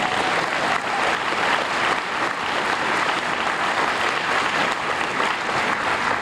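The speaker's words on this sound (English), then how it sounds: "Do they deserve a round of applause?" Audience at a town hall meeting breaks into sustained applause, a dense, even wash of many hands clapping that holds steady throughout with no voices standing out.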